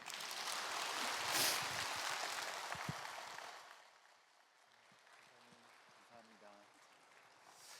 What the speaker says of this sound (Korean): 다시 한번 크게 박수해 주시기 바랍니다.